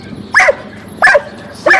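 A dog barks excitedly at another dog, giving three sharp, loud barks close by, spaced about two-thirds of a second apart, with quiet gaps between them.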